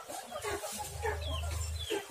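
Low, steady clucking from chickens close by, with some brief higher-pitched bird calls scattered across a short, busy farmyard moment.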